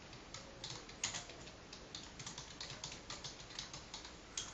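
Code being typed on a computer keyboard, a quiet, steady run of close key clicks with a few sharper taps, and no one speaking.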